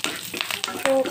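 Mustard seeds, cumin, a dried red chilli and curry leaves sizzle in hot oil as a tempering for coconut chutney: a short, close burst of crackling and popping with sharp spits.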